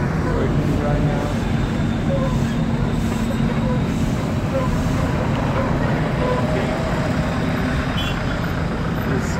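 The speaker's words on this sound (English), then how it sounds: "JCB tractor is working right now." A JCB tractor runs steadily in Kutaisi, Georgia, its loud continuous rumbling engine and mechanical clatter filling the scene without pause, with a voice faintly mixed into the noise.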